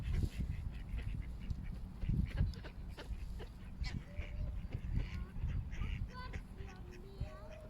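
Ducks and geese flock outdoors in cold weather while being fed bread, with scattered quacks and honks at a modest distance, fairly faint, and some soft talk mixed in.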